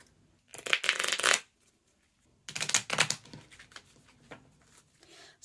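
Handmade duplex-printed playing cards being shuffled in two loud, riffling bursts separated by a short pause, close and clear with no talking.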